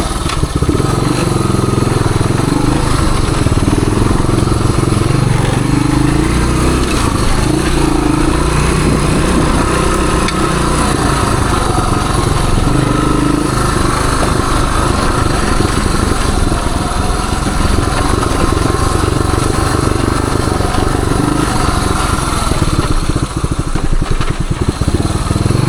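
1978 Suzuki DR370 motorcycle engine idling up close, a steady loud thumping single-cylinder chug running continuously with little variation.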